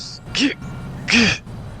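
Two short sneezes, each a sharp burst with a vocal onset, separated by a brief pause, in a GTA roleplay game session.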